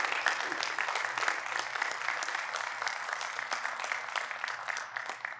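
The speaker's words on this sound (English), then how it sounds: "Applause for these amazing players, please." Audience at an education conference keynote in Las Vegas applauds for the players, a steady, fairly even round of clapping from a modest crowd, moderately distant and without talk.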